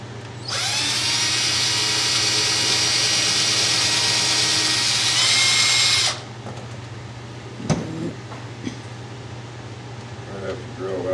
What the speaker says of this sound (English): I have to drill out a bigger hole.